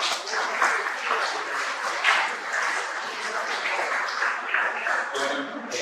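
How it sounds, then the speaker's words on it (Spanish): A symposium audience applauds after a talk on the flora of the Cerro Blanco protected forest, giving a moderate, even clapping that carries on steadily with a faint murmur of voices. "Un fuerte aplauso, por favor."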